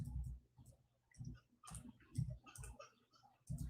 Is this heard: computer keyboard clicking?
yes